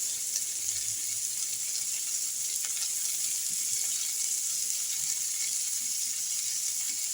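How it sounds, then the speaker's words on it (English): Bacon with a pinch of salt frying in a pan, a steady, even hiss of sizzling fat that holds constant throughout, close and unbroken with no talking. "I've gone in with my bacon and a pinch of salt."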